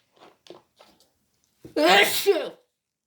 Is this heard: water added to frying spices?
no